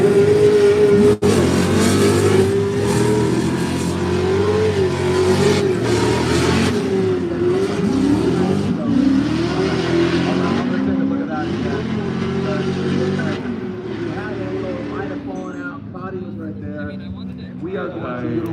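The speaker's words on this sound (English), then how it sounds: "He drifts along the nose of Cotty" A drift race car engine revs hard and wails up and down during a Formula Drift ProSpec warm-up in Utah, loud and continuous with throttle swells, while commentators talk over it throughout.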